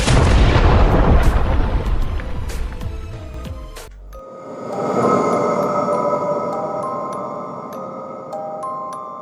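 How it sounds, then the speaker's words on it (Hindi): A loud, rumbling explosion across a graveyard in a horror cartoon, with crackling debris, fading out and giving way to a dense, sustained roar and tonal hum. "उसी समय पूरे कब्रिस्तान में जोरदार धमाका हो जाता है"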